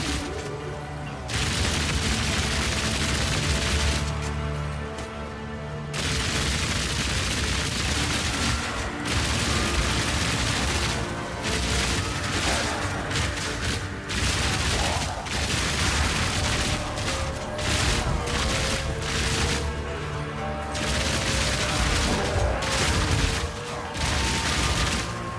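Rapid automatic crossbow shots in Path of Exile 2, a fast continuous stream of loud, close firing with booming impacts and effects, running almost without pause.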